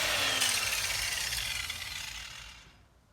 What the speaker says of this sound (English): just like clean it up a little bit while I'm there with the grinder out